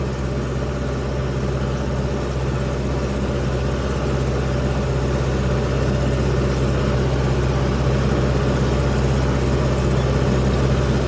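A tractor engine runs steadily during a large-scale field ploughing job, a loud continuous low drone with constant rumble and no change in pace, close by and alone without talk.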